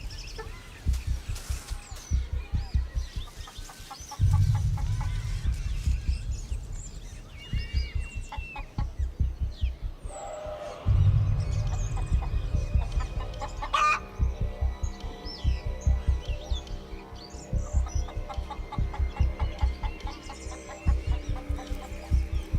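Chickens cluck in a suburban henhouse, with a rapid rhythmic clucking that swells twice into louder bursts, plus scattered chirps and small calls around it. No one speaks.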